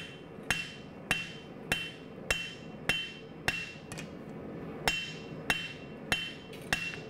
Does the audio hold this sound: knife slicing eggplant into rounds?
no